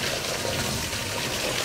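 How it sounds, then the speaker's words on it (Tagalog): Water rushes continuously through household pipes as a water filter is backwashed, a loud, steady gushing hiss with no voices over it. "So ngayon ang ginagawa, binabackwash, tapos tinitignan yung mga tubo kung may mga tulo."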